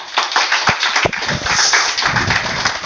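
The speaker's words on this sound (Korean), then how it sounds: "우리 박수로 환영하시겠습니다" A church congregation claps steadily for a few seconds to welcome a speaker, a loud continuous round of applause with no talking.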